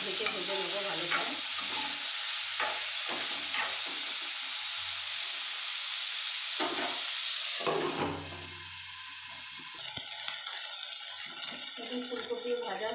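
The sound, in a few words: cauliflower florets frying in oil in a pan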